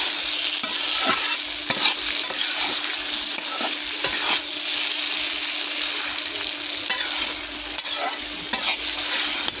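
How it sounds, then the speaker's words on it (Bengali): Potatoes sautéing in a pan for an ilish (hilsa) fish curry with spice paste and water, a steady close sizzle with repeated scraping stir strokes throughout, no talk. "তখন আমি ভালো করে আলুগুলো কষিয়ে নেব।"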